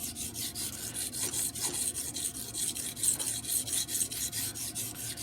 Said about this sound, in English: So little spot sharpening on the tip, and a couple more passes.